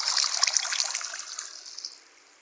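Flowing water in a Minecraft-style block game, a bright trickling, bubbling stream that starts close and fairly loud, then thins and fades away over a couple of seconds.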